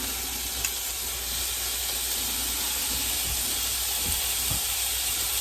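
Reuben chaffle with Swiss cheese cooking inside a closed waffle maker, giving a steady, even hiss and sizzle with a few faint clicks beneath it.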